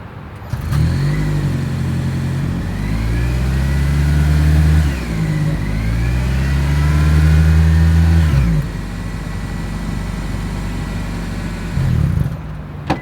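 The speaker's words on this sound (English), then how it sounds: "As always, here is that exhaust clip." A 2025 Toyota Camry's exhaust sounds through dual chrome tips: the engine starts, then blips through two rising revs close by, each falling back before settling into a steady idle.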